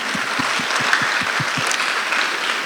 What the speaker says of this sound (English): I want everybody to clap for yourselves